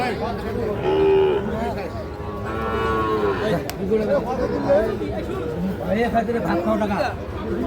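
Cattle calves, young bulls, moo several times close by at a livestock market amid a busy crowd of people chattering, with a voice talking throughout.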